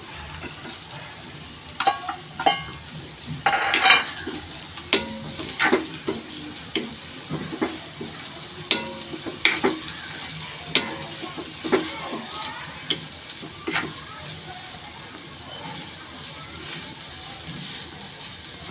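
Cashews go into a pan of sweetened bitter gourd sabzi, giving a steady close sizzle with scattered crackles and the clatter of a spoon stirring the pan, a brief burst of louder frying early on, then even hissing.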